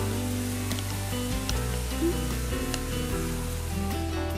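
Beef and vegetables sizzle in a stir-fry pan with a constant, even crackle that holds steady throughout, accompanied by occasional soft clinks of stirring.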